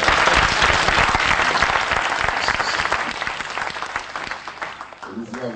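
A church congregation breaks into loud, sustained applause during a sermon, dense clapping filling the room and slowly thinning toward the end, with a few voices mixed in.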